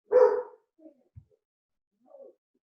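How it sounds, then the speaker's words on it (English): A dog gives a single loud bark, followed by a few faint, scattered noises and quiet low sounds in an otherwise silent household room. "Dog."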